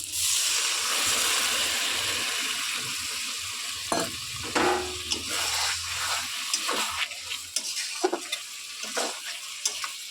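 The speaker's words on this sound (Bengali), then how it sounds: "এরপরে লতিগুলো দিয়ে দিচ্ছি। এখানে সামান্য একটু জল অ্যাড করলাম।" Taro stolons and a splash of water go into a pan of frying shrimp, bringing a steady sizzle that settles into scattered bubbling crackles and light stirring clatter close by.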